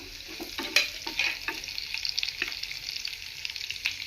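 Green chillies hitting hot oil in a pan for chicken chilli: a bright, crackling sizzle with quick spatters and a few stirring scrapes, close and moderately loud, without speech.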